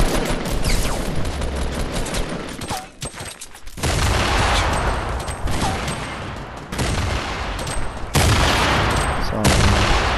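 Fortnite combat roars with loud, dense blasts from grenade explosions mixed with rapid gunfire, broken by a brief lull before the barrage resumes at full force.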